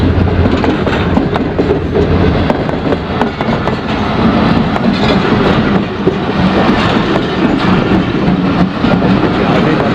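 A loud, steady Millat Express train roars past close by, with continuous rumbling and rapid rhythmic clatter of wheels over rail joints.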